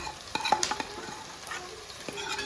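Prawns frying in a pan while being stirred, a soft steady sizzle with faint scraping and light clinks of the utensil, close and fairly quiet.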